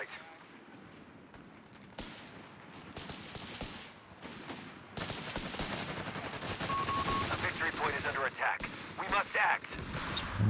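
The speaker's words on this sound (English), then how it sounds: "That's where he's getting all these machine guns from." Rapid machine gun bursts and gunfire in a Company of Heroes 3 battle, dense and continuous with heavier volleys building toward the end, under a commentator's voice.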